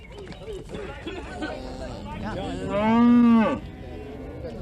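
At a 1960s Dublin cattle market, one cow gives a single loud, drawn-out moo. Market chatter and voices come before it and continue around it.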